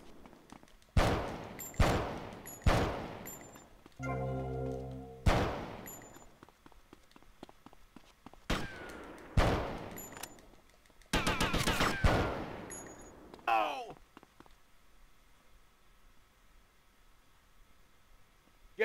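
Gunfire in GTA Vice City on PS4: a string of loud, separate shots and short bursts with echoing decays, spaced irregularly across the stretch, then a dense burst of rapid fire before the shooting stops and fades to quiet.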